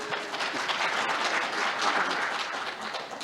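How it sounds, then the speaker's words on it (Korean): Sustained applause from a conference audience at a polar interpreters' event, a dense, even wash of many hands clapping at moderate distance with no talking over it. "큰 박수 부탁드리겠습니다."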